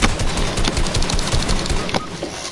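Rapid SMG gunfire from tactical blue submachine guns in Fortnite, a dense, loud stream of bursts filling the whole stretch with no voices over it.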